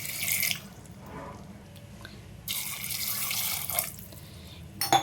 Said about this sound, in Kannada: ಈಗ ನೀರು ಹಾಕ್ಕೊಳ್ತಾ ಇದ್ದೀನಿ.